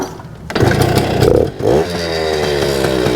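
A 1974 Kawasaki MT-1B two-stroke minibike engine revs up sharply and close by, then drops briefly before settling into a buzzy, ringing idle. It is loud and alone, with no talk.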